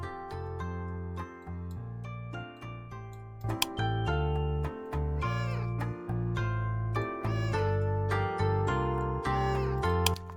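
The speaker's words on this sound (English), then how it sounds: "There is a sound for meowing" A cat meows in the video game Unnatural Urges, short pitched cries mixed into steady looping game music that plays throughout, with no one speaking.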